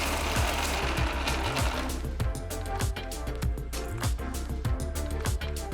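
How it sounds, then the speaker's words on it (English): A kitchen mixer grinder blitzes broken tea biscuits into fine powder, a loud, continuous motor whine with rhythmic rattling thumps as the pieces knock around the jar. "add them to the mixer jar and grind them to a nice fine powder"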